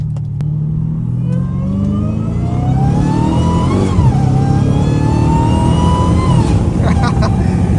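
A Dodge Hellcat Redeye accelerates while driving, its loud engine droning low with a whining tone that climbs steadily in pitch from inside the car.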